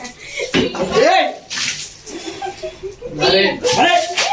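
Water splashes onto someone in a prank, with repeated sloshing bursts mixed in with excited talking and chuckling voices.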